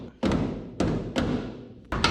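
A claw hammer knocks on the door of a 1967 Pontiac Firebird with worn latches, giving four heavy, hollow thuds at uneven intervals, close and loud with no talking.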